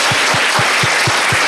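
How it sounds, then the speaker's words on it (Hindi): A crowd applauding for a teacher: loud, continuous clapping from many hands with a steady, slightly rhythmic pulse, close and filling the space. "ऐसे पढ़ाने वाले मिले तो ताली एक बार बजा दे सर के लिए।"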